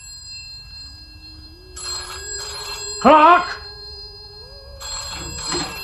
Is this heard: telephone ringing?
yes